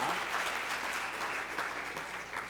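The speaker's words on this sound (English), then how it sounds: "Give them a round of applause, our student newspaper." An audience at a student media awards event gives a round of applause for the student newspaper, a full, continuous clatter of many hands with a faint voice underneath.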